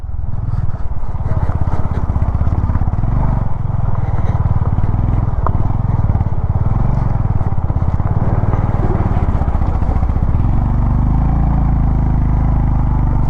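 A Honda motorcycle strains up a dusty, sandy gravel climb at high altitude in Zanskar, held in first gear at full throttle, its engine a loud, steady, close drone with rattling clatter throughout.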